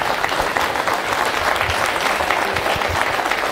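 Dense, enthusiastic applause from a standing audience, continuous and fairly loud throughout the few seconds, with no clear speech over it.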